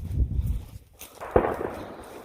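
A single muzzleloader gunshot during deer season, heard from a distance around a junkyard: one dull boom followed by a short rolling echo, with low rumbling noise before it.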